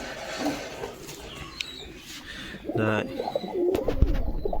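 Pigeons coo softly in a loft nearby, low throaty calls rising in the latter half, with a person speaking briefly in the background.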